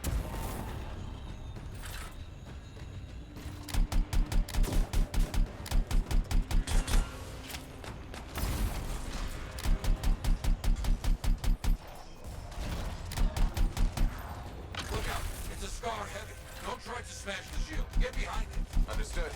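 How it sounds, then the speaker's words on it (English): Rapid automatic gunfire in the video game Anthem comes in several dense bursts, loud and rhythmic, over game sound and background noise, with talk heard between the volleys. "Who's shooting at me?"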